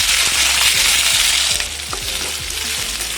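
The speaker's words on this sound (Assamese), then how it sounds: "এয়া নহৰু পেষ্ট লৰাই ল'ম ভালদৰে এনেকৈ তাৰপিছত এইটো জলকীয়া আৰু এয়া পিঁয়াজ" Garlic paste, green chili and onion frying over a high gas flame, a loud close sizzle with rhythmic scraping strokes of a spoon stirring the pan, no voices.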